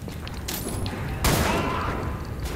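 A shotgun loaded with flechette rounds fires in the Wolfenstein video game. A loud burst lands mid-clip over a dense wash of combat noise, with a smaller crack just before it.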